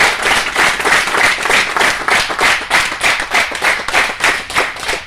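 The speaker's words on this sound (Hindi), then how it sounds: "जोरदार तालियां बजनी चाहिए, बजाओ जोर से, जोरदार और जोर से।" A seminar audience claps loudly and steadily in a dense, rhythmic burst of applause, close and full, with no talking over it.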